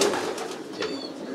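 Racing homing pigeons coo close by in a loft, soft rolling calls over a steady background hum with no talk.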